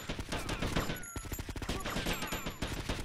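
Dense video-game gunfire in the Vice City Hardline mod: overlapping rapid shots and bursts fill the whole stretch, loud and close, with a brief lull near the one-second mark.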